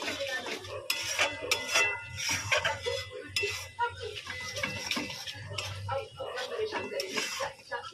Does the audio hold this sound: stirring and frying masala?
yes